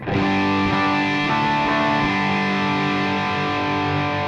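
Heavily distorted electric guitar chord through a Fractal Audio Axe-Fx II amp modeler, ringing out and sustaining, loud and dense, played alone without any voices.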